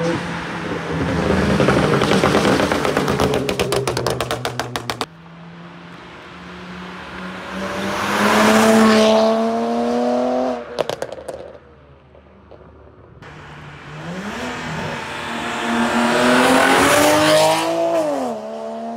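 A Dodge Challenger R/T with a 400 hp engine, heard from inside as it accelerates hard, the engine note rising through several gears with loud revving, gear-change breaks and a brief tire chirp.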